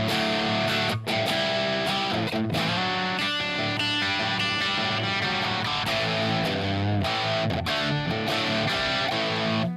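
Electric guitar played on the clean amp channel through a Klon overdrive pedal set with low gain, full strummed chords ringing steadily and loud, alone with no voices.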